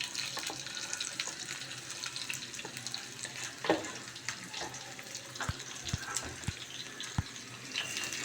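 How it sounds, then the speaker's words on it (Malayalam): Sliced onion and two split garlic cloves frying in a pan, a continuous crackling sizzle broken by small scraping and knocking sounds and a few low thuds near the end. "ഈ ഉള്ളി, ഒരു 2 വെളുത്തുള്ളി കീറിയത്, ഇത് രണ്ടും ഒന്ന് ഫ്രൈ ആയിട്ട് വരുമ്പോൾ"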